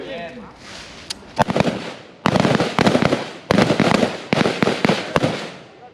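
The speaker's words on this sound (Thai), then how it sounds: "เป้าหมายทางขวา สองนัดเริ่มยิง" Gunshots fired at a target during a Thai Marine ranger rapid-shooting drill, a run of sharp loud cracks in quick bursts with echo, under a voice shouting commands.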